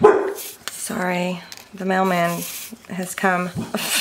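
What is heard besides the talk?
dogs barking at the mailman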